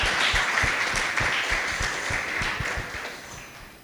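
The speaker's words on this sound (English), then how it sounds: "Put your hands together." A conference audience at a financial literacy event claps together in a steady, even wash of applause that holds for several seconds and slowly tapers off.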